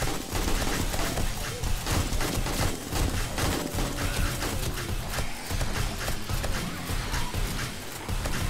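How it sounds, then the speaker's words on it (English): Rapid, dense gunfire crackles continuously in bursts, loud and close, like automatic weapons during a horde night firefight in the game 7 Days to Die, with a voice occasionally underneath. "Can't even hear the gunshots because they're so loud."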